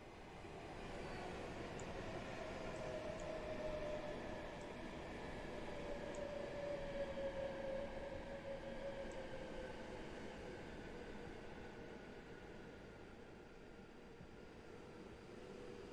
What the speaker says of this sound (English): 2 trains arriving now